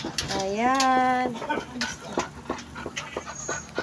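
A pet dog greets its owner at night on a street in Valenzuela City, Manila, with a rising, high-pitched whine, followed by quick panting breaths and short yelps that sound close by.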